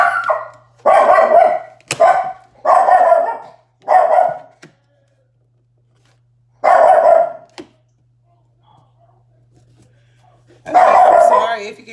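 A dog barks in loud, close bursts, several sharp barks in a row, then a pause before another volley, reacting to someone outside the house.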